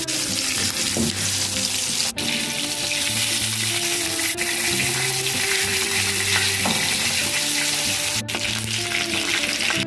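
Chicken legs frying with curry leaves in hot oil, a loud continuous crackling sizzle with bursts of spitting, close and steady with no talk.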